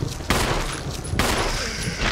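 Two loud gunshots from a gun in Resident Evil 1, the first cracking sharply and the second following under a second later, each leaving a ringing decay.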